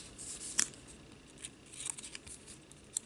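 A nipper tool snips off a small wooden toothpick in a few sharp, faint clicks and crunches, with quiet handling noise between them.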